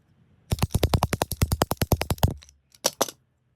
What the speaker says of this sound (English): let's see what's inside and cut this ball open with Jeff again